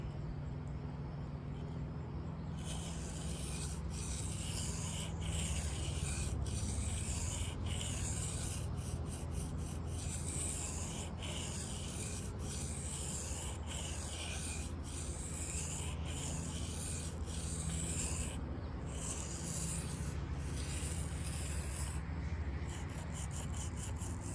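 A Kershaw Hotwire knife blade of 5Cr steel is drawn across a sharpening stone in a steady series of close, rhythmic rasping strokes that continue for the whole stretch over a constant low background hum.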